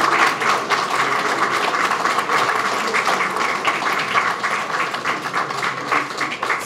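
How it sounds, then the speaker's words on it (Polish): An audience at a city election programme presentation claps loudly and steadily throughout, a close, dense, sustained round of applause with no clear talking. "Duże brawa"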